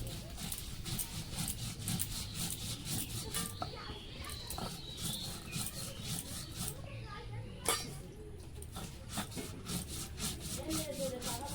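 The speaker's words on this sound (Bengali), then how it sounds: "আমি এগুলো বাটতে থাকি একটু।" Mustard seeds and green chillies ground by hand on a grinding stone, a close, steady run of rhythmic rubbing and scraping strokes with a few sharper knocks.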